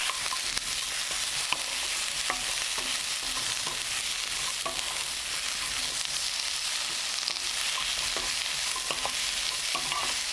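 Onion and eggplant stir-fried in a generous amount of oil, a constant close sizzle broken by regular light scrapes and taps of a utensil against the pan, with no voices.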